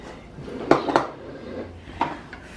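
Whipping cream being stirred in a bowl, with a few clinks of a utensil against the bowl in short, irregular bursts, close by and moderately loud with no talk.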